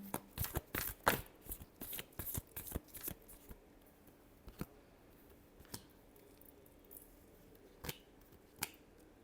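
Tarot cards shuffled by hand in a burst of rapid riffling and slapping for a few seconds, then a handful of sparse, sharp card taps spread across a quiet stretch.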